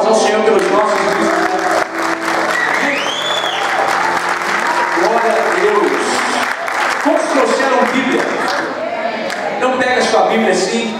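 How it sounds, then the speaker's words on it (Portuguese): A church congregation gives a round of applause for visitors during a Portuguese-language service, loud dense clapping with some cheering lasting throughout, mixed with music and voices. "Nossa igreja gostaria que desse uma salva de palmas ao Senhor pelos nossos visitantes"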